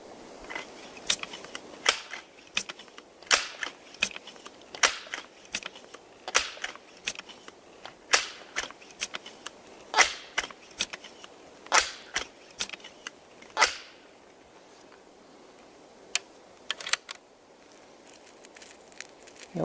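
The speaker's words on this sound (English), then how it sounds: "Go ahead and shoot a few more rounds." Benjamin air rifle firing .22 pellets outdoors, a long series of sharp, separate cracks spaced a second or two apart, fairly close and loud against quiet surroundings, with a few fainter clicks between shots.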